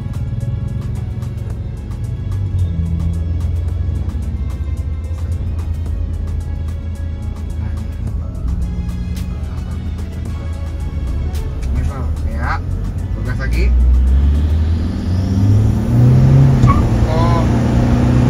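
A Toyota Innova with a tuned 300 HP diesel engine revs hard, its low rumble rising and swelling louder toward the end, with people talking over it.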